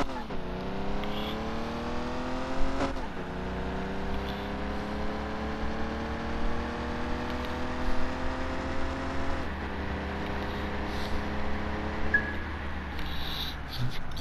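A Mercedes-Benz Pagoda in a racing video game revs hard through repeated upshifts, each gear a rising engine whine that drops at the change, continuous and loud for the whole run.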